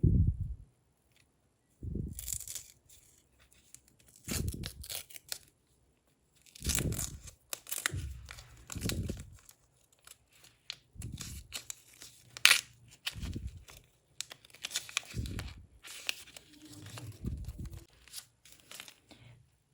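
Repeated bursts of crinkly tearing and rustling as a paper Minecraft blind-bag packet is ripped open, close up, in short irregular bursts with quiet pauses between.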